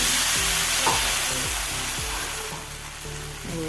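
Neer dosa cooking on an oiled pan gives a loud, continuous sizzle, with repeated low knocks and scrapes from stirring and spooning oil over it.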